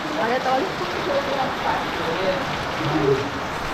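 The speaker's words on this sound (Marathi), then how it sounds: "पाऊस बघा पाऊस थांबायचं नावच घेत नाही भरपूर मुसळधार पावसाची हजेरी" Heavy monsoon rain falls in Guhagar in a continuous, wide hiss, steady and fairly close, while faint voices murmur underneath.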